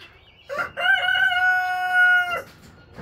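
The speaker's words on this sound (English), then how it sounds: "the one that I am not looking at in the camera is the one that's gonna start crowing" A Rhode Island Red rooster crows once nearby, a loud, drawn-out cock-a-doodle-doo that lasts about two seconds over quiet farmyard background.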